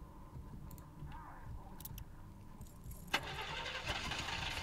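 A car engine turning over and catching in The Walking Dead video game, quiet keys and movement first, then a sudden start at about three seconds settling into a steady running rumble.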